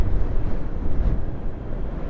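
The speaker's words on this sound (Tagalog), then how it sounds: "grabe lakas ng hangin" Strong wind buffeting the microphone during a ride on a Suzuki Burgman Street 125 EX scooter around Tagaytay, a loud, continuous low rumble with gusty swells and no speech.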